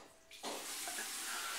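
Warm water is poured into a neti pot. After a brief quiet moment, a steady close stream of splashing liquid begins and continues to the end.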